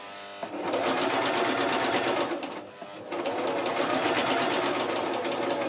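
A sewing machine runs close and loud, stitching a T-shirt seam in a steady rapid whir, pausing briefly before starting up again at the same even pace.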